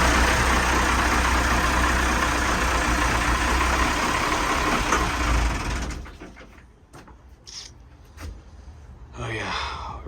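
A boat engine that had run dry of fuel turns over and catches, rumbling loud and steady for several seconds before cutting off, leaving quieter clanks and shuffling noises behind.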